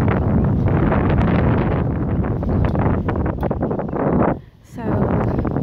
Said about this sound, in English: Today is a very windy Texas day.